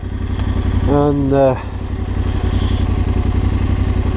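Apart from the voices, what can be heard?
Yamaha Tenere 700 motorcycle engine while riding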